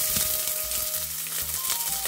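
Onions with green chillies and curry leaves sautéing in a little ghee and oil, a steady close sizzle with faint clinks and stirring, low rumbles underneath.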